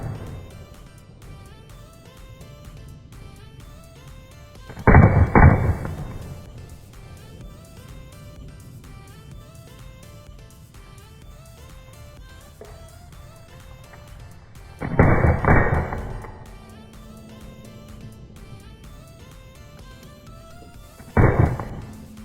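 A Smith and Wesson M&P pistol fires three slowed-down, booming shots spaced several seconds apart, with malfunctions between them, each a deep, drawn-out blast over a low mechanical hum.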